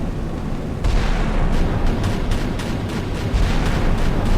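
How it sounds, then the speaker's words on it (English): MLRS rocket artillery fires in the naval combat game Sea Power, a dense, roaring wash of launches with repeated whooshing pulses, loud and continuous over a constant rumble. "MLRS is firing."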